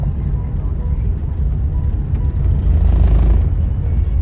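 A vehicle on a road toward the Nullarbor, heard from inside as a steady low engine and road rumble that swells slightly as it turns.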